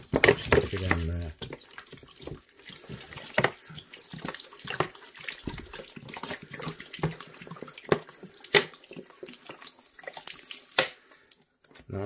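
Water from a container poured onto a pressed coco soil substrate block in a tarantula enclosure, giving irregular splashing and trickling bursts that come and go over about twelve seconds, with a short voice near the start.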